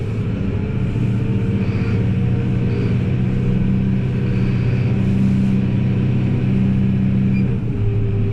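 Kubota M7173 tractor engine running steadily while shifting through its gear ranges, a loud, continuous low rumble with slight changes in pitch near the end, heard close and alone.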